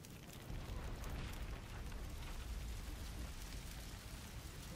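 A continuous loud, rumbling roar of a fire breaking out in the game Assassin's Creed Chronicles: China, dense low-end noise with crackle, steady throughout with no voices.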